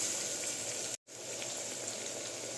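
Onion, capsicum, tomato and ginger frying in a pan, a steady soft sizzle with a brief gap, no voices.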